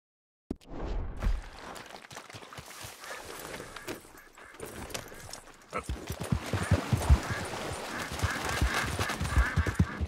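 A horse in Red Dead Redemption clip-clops along, the hoofbeats close and steady at first, then quickening into a busier, louder run with occasional snorts.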